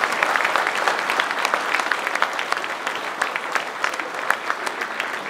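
An audience at a January 2024 town hall New Year's reception applauds the hall's colourful decorations, producing steady, dense clapping that fills the room evenly for several seconds with no voices standing out.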